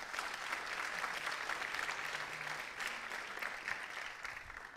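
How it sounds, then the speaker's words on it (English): An audience at a landscape architecture event applauds student volunteers from a university chapter with a soft, even wash of many hands clapping, distant and faint, continuing steadily over a low background hum. "Please give them a round of applause."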